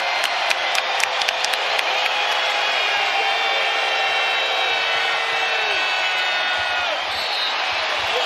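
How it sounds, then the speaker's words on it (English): A packed arena crowd at a Boston Celtics versus Oklahoma City Thunder basketball game roars and cheers loudly and continuously, with scattered claps and whoops near the start and sustained noise throughout. "And that ignites this combustible crowd."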